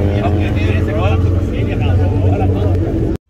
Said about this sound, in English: That's a full bolt-on C7, Holley High Ram E, 8-speed auto.